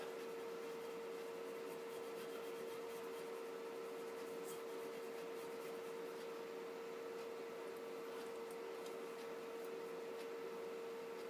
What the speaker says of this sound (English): I usually rub them in real good before I peel the final layer off